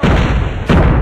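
Grenade blasts in a Call of Duty deathmatch, two loud booming bursts in quick succession, the second hitting just after half a second, each a dense full-range rumble.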